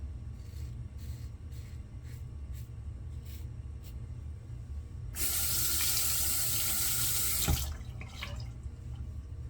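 A bathroom tap runs water into a sink for a rinse after a shave, a steady close hiss that starts partway through, lasts about two seconds and then cuts off.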